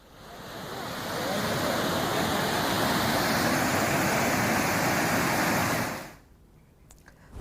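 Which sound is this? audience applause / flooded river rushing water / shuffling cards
flooded river rushing water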